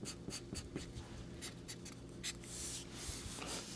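Colored pencils or pastels whisked across paper while shading a Lamborghini drawing, a close, soft run of quick scratchy strokes in an uneven rhythm, quiet and with nobody talking.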